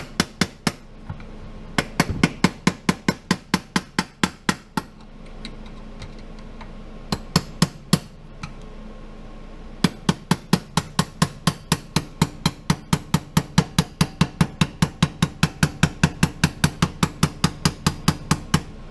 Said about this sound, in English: I'm just driving this out by pressing on these little slots with the screwdriver and tapping it so that they spin around